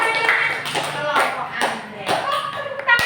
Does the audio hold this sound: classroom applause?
yes